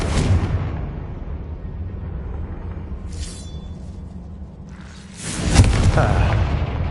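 A Confringo spell explodes in a wizard video game with a loud booming blast and a long heavy rumble, followed by a second surging roar, all close and filling the space, with no voices heard.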